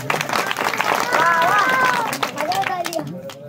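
A crowd at a Marathi kirtan claps on the preacher's call, a busy spatter of hands mixed with crowd murmur while a voice talks and chants over it, the clapping thinning out toward the end.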